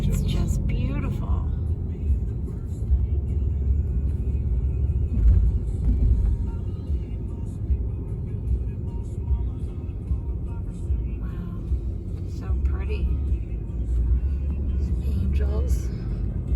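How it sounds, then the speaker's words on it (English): An RV rolls across the Hoover Dam in Nevada, a continuous low engine and road rumble that holds steady throughout, with people talking over it. "We are driving over the dam right now."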